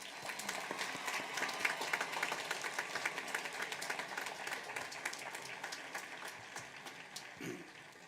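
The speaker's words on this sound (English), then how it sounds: "Let's give these students a round of applause." An audience at a high school graduation ceremony applauds steadily, a dense wash of many hands clapping, moderately distant and fairly even throughout.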